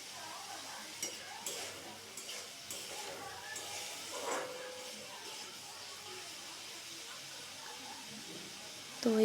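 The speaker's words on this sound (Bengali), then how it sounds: "এভাবে ধীরে ধীরে আমাদেরকে এটি ধিমি আঁচে এটি ভাজতে হবে" Green bananas frying slowly over low heat, a soft sizzle under intermittent stirring and scraping of a utensil in the pan, with light clinks and quiet voices nearby.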